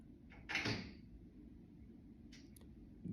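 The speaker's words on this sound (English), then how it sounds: "You're hearing a lot of doors" Indoor doors opening and closing, heard as a soft thud and scrape followed by a fainter knock and click against a low steady hum, distant and quiet with no speech.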